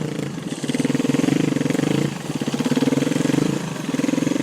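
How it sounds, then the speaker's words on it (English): A KTM dirt bike is ridden over logs, its engine surging loudly and close in revving pulses as the rider wheelies and hops it over the obstacles. "You can kind of pull a wheelie and hop over it like that."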